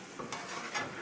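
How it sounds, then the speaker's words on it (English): Tomatoes stirred in a hot pan for a fire-roasted tomato and spinach sauce, with a couple of soft scraping strokes over a faint sizzle, quiet and close. "Give that a stir."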